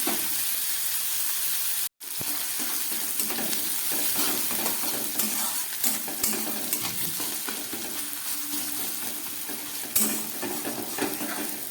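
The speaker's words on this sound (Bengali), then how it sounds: "খুব ভালো করে পেঁয়াজটাকে আমি ভেজে নিচ্ছি।" Onion and tomato frying in a pan for a Kabuli chickpea curry, a steady close sizzle with stirring scrapes throughout, one brief dropout near the start.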